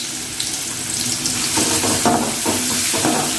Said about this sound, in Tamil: சேர்த்துட்டு நல்லா கிண்டி விட்டுக்கலாம்.